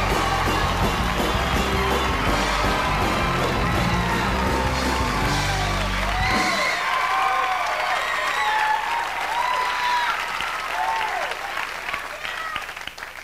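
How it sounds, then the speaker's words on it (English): A Tonight Show studio audience claps and cheers for a stand-up performance, loud dense applause with whoops over band music that cuts off midway, the clapping continuing and gradually fading. "One more time, let's give a round of applause for our performance."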